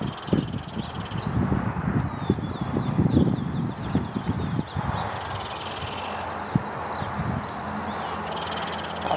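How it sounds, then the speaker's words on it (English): A house wren gives quick, dry ratcheting chatters from the background in a yard setting, faint and repeated in short bursts, while nearer rustling and handling noises sit in the foreground. "That ratchet sound in the background is a house wren."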